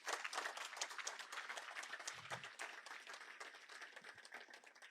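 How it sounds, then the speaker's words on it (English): An audience at a First Nations carbon summit gives a round of applause, a busy crackle of many hands clapping at moderate distance, steady throughout and slowly tapering. "maybe we can give them a round of applause"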